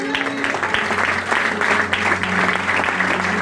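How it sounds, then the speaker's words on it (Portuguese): Church congregation applause at a Filadélfia church service, brisk clapping from a crowd lasting a few seconds, with a low sustained tone humming underneath. "Um aplauso para eles."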